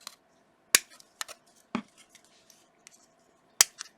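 Sprue cutters snipping plastic parts from a Games Workshop Age of Sigmar Grombrindal White Dwarf model kit, a few sharp isolated clicks and snaps with small rustles between, close and quiet with no talk.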